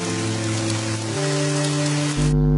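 Steady, loud rain falls continuously with a dense hiss and an underlying low hum, uninterrupted throughout and with no voices.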